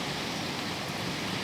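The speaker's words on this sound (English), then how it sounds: "we've got another heavy downpour, so everything's filling up with water." Dense, even rain hiss fills the whole moment, a constant wash of downpour with no other sounds.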